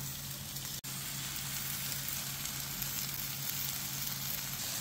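Tuna fish fries in a pan after being flipped, a continuous dense sizzle and crackle close by, steady and loud with no voices over it.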